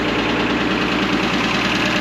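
An old Hymac excavator's Ford diesel engine idles steadily nearby, a continuous low, even rumble with a faint knocking pulse and no talk.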